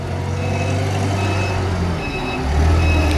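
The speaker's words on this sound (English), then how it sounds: "backup alarm" A Taillift FG25 propane forklift, a 5,000-pound truck on solid pneumatic tires, runs with a steady loud engine rumble while its backup alarm sounds repeated high electronic beeps close by.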